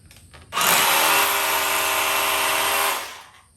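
Milwaukee M18 FUEL SDS Plus rotary hammer drill runs close and loud in one continuous burst of about two and a half seconds, then winds down.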